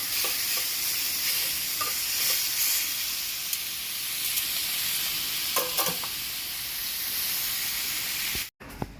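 Steak sizzles on a hot grill in a steady close hiss, with a few faint clicks and taps and no talking.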